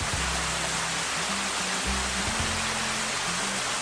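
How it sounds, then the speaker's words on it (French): Tufa waterfalls on a river walk give a loud, steady rushing roar of falling water, a broad unbroken hiss that lasts the whole clip. A faint low hum runs underneath. "Dernier regard sur ces cascades de Tuf."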